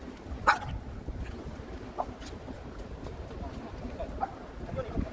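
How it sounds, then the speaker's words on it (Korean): An excited dog outdoors in an apartment complex gives a few short, faint yips and barks, spaced seconds apart over low background noise. "강아지가 신났네요, 신났네요."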